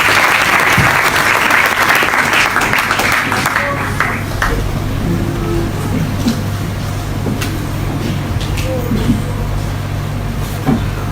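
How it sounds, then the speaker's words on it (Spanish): A church congregation gives hearty applause, loud at first and tapering to scattered claps and rustling as people take their seats, with a low steady hum underneath. "Dando un fuerte aplauso"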